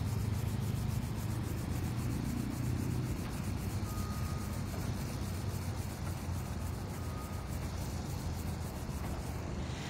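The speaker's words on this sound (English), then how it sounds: "Rubbing the palms together and opening up the fingers and rubbing in between the fingers." Palms and fingers rubbing together close to the microphone, a steady, soft, dry friction hiss that continues unbroken for about ten seconds.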